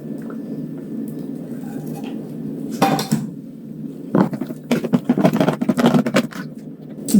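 A utensil stirs thick banana bread batter of mashed bananas and eggs in a bowl, with soft squishing and scraping that comes in irregular bursts and grows busier toward the end.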